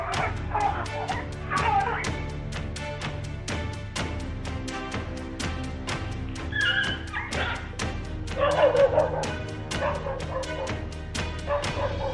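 A dog yelps and whimpers repeatedly, close by, in short high-pitched cries over a steady low background hum, as a leopard attacks it inside a house.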